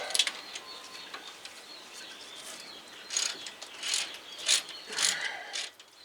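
A hand ratchet clicking as it loosens brake bracket bolts on a 2005 Land Rover LR3 during a front brake job, with close, bright bursts of rapid pawl clicks repeating at a steady pace.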